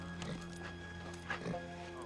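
A lone saddled horse in an old western town gives a few faint, scattered hoof clops against a low steady hum, quiet and somewhat distant.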